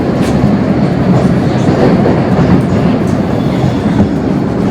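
A Moscow metro train rumbles steadily and loudly from inside the carriage, a continuous low roar with faint wheel clatter throughout and no break.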